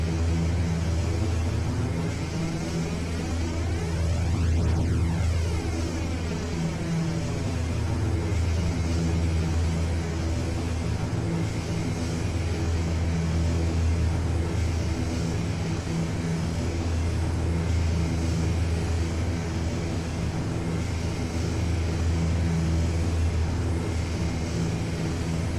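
An ATR turboprop airliner taking off in the X-Plane flight simulator, a loud continuous engine and propeller drone with a rising whine that sweeps upward, steady throughout with no talking.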